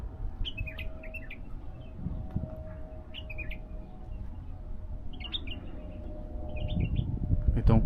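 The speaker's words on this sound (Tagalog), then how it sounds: "Dami pa mga ibon." Small birds chirp in short bursts of tweets scattered through an outdoor park in Riyadh, fairly distant over steady background hum and walking noise, with a low rumble growing toward the end.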